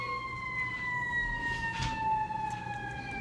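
A siren wails at a distance, its steady high tone drifting slowly downward over a low background rumble.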